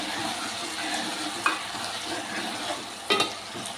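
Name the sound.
stirring tamarind into okra and tomato curry in a pan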